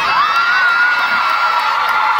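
A large crowd at a concert in Oakland Arena cheers and screams steadily, a loud, dense, high wall of shrieks and whoops that holds for the whole stretch without a break.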